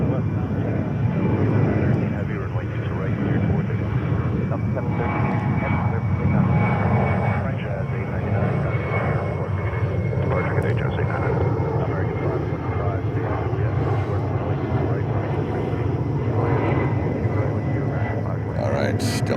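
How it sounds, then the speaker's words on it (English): A Delta Boeing 767-300 heavy jet takes off at JFK, its engines a steady broad roar that holds loud and constant throughout, with faint voices underneath. "And next takeoff is another heavy. It's another Delta 767-300 to Los Angeles."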